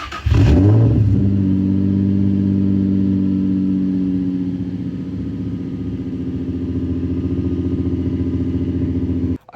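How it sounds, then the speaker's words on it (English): A Nissan 350Z with a catback exhaust cold-starts with a loud cranking burst, then settles into a steady, droning high idle close to the microphone, holding nearly level for several seconds until it cuts off abruptly. "I'll throw in a little cold start clip."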